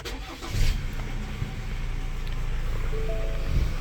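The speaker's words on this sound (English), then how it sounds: "we're going to jump in, start it up for you" A 2021 Ford Ranger Wildtrak with a 2.0-litre twin-turbo engine starts up close by, a brief cranking burst settling into a steady, low idle rumble.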